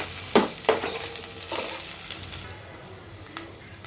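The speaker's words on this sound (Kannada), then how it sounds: "ಈಗ ಆಯಿಲ್ ಹಾಕ್ಕೊಳ್ತಿದ್ದೀನಿ. ಆನಿಯನ್ ಹಾಕ್ಕೊಳ್ತಿದ್ದೀನಿ. ಕರಿ ಲೀವ್ಸ್ ಹಾಕ್ಕೊಳ್ತಿದ್ದೇನೆ." Onion and curry leaves are dropped into hot oil for a prawn curry, setting off a sudden close sizzle with a few stirring scrapes that settles into a steady, softer frying hiss.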